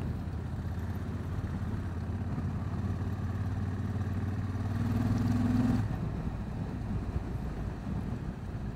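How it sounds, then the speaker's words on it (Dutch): A 2024 Honda Africa Twin Adventure Sports DCT with an 1100 engine is ridden, its steady drone heard under heavy wind rush. A rising engine tone swells briefly near the end before fading back into the wind. "Het is dus een 1100 motor. Uit 2024."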